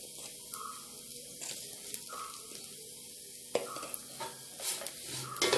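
Chili powder is stirred into hot oil in a pan for a Kerala chicken curry, a soft steady sizzle with spoon scrapes and occasional clinks against the pan, close and fairly quiet.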